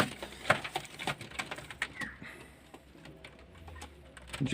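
Pigeons in a loft make soft, scattered coos and fluttering, scratchy pattering nearby, with irregular taps and rustles over a quiet background.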